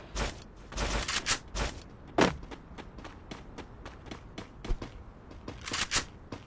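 Gunfire erupts in a video game firefight, with repeated bursts and shots ringing out in uneven clusters over several seconds, mixed with thuds and scuffling movement.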